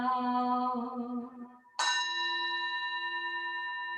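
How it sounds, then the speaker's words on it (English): Two rings of a bell during a Sunday temple service: a first tone that fades, then a brighter, sharper strike that sustains a long, steady ringing decay, clear and alone. "for the sound of the bell."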